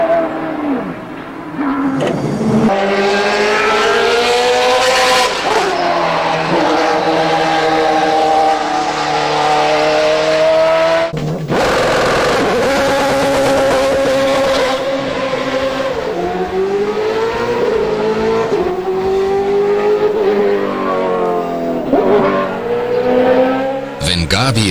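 A racing car engine and exhaust under a 115-decibel noise limit with tiny silencers, droning loud and continuous with rising and falling pitch as it drives, broken by a brief dip near the middle.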